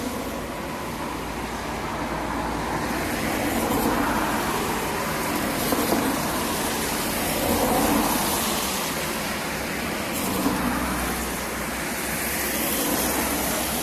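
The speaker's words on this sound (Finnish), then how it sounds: "autoja menee koko ajan" Cars sweep past constantly on a nearby road, a continuous, moderately faint traffic roar that swells and fades in slow waves as vehicles go by.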